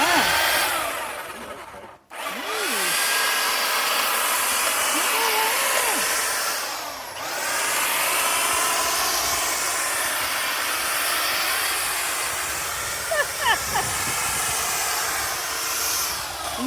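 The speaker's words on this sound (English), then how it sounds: "that's gonna make some easy work of trimming up these bushes" A corded electric hedge trimmer runs while cutting bushes, a loud continuous buzzing drone that briefly stops and restarts, with a few light snips near the end.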